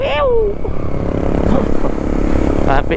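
A motorcycle with a freshly rebuilt engine cruises along an open road without traffic, giving a steady, close, continuous engine drone mixed with road and wind noise throughout.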